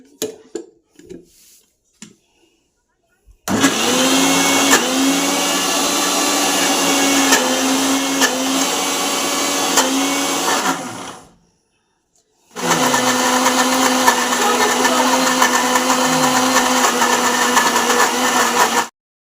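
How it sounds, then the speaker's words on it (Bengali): Wet grinder or mixer motor grinding one kilogram of soaked urad dal (biuli dal) into batter with water added, a loud steady whirring drone that runs continuously, cuts out briefly, then resumes. "এইভাবেই পুরো এক কেজি বিউলির ডালটা বেটে নিতে হবে"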